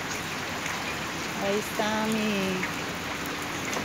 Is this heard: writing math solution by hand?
no